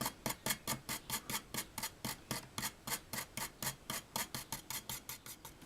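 Regular back-and-forth rubbing strokes, about four per second, as a cleaning tool scrubs the edge connector pins of a game cartridge; crisp, close and steady with no talking.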